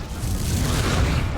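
Incendio fire spell in Hogwarts Legacy, a loud, deep rumbling whoosh of flame that swells and sustains for over a second.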